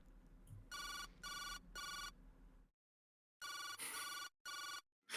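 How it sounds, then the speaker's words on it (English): Telephone ringing in the Jake Hunter detective video game: loud electronic double rings repeating in even bursts, a short silent gap between sets, with no voices. "the ring of my phone shattered the silence of the room"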